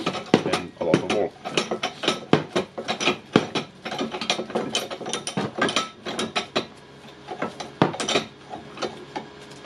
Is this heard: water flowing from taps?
no